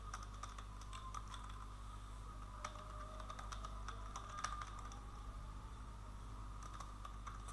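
Typing on a computer keyboard while writing code: a quiet, uneven patter of light key clicks in short bursts with pauses, heard alone over a low steady hum.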